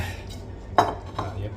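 Dishes and cutlery clink while homemade Korean spicy braised chicken is served into a bowl: one bright clink, then a softer one, close by over quiet room noise.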